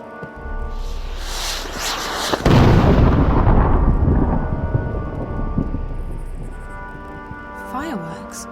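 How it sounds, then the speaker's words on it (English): Fireworks explode over a town in the video game Dreamfall: a heavy booming blast followed by a long rumbling crackle that fades, with a voice speaking over parts of it. "Fireworks? Maybe they're celebrating something."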